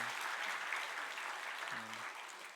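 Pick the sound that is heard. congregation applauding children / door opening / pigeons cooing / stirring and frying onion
congregation applauding children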